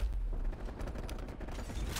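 Sentry turret or minigun in a video game firing a rapid, continuous burst of gunfire, dense rattling shots with rumbling booms for two seconds, loud and up close with no voices over it.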